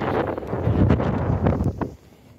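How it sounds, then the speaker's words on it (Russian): Strong stormy winter wind at minus 24 degrees in a village buffets the microphone in loud, gusty bursts, then drops off abruptly near the end. "у нас ветер, притом очень-очень сильный"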